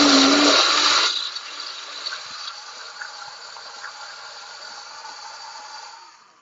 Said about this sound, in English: If you have a regular blender, use it.